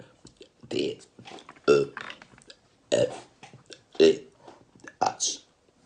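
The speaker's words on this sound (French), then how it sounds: "Je rote sur commande." Repeated loud burps produced on command, about six separate eructations spaced roughly a second apart, close to the microphone with quiet gaps between.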